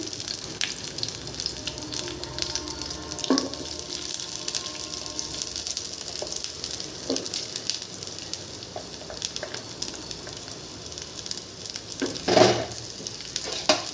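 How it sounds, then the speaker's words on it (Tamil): Onions sauté in a pan with broken dried red chilies for a green tomato and okra dish, a continuous soft sizzle with occasional stirring clinks and a louder clatter late on. "வெங்காயம் கொஞ்சம் வதங்கட்டும்"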